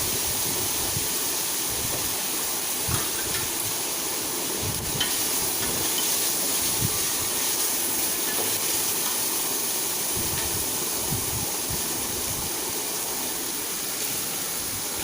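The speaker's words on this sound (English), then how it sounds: "The onion has not changed its color, so I am just frying for another 5 seconds." Onions frying in a pan for baby corn vegetable biryani give a steady, close sizzle and hiss that runs without a break, with faint clinks now and then.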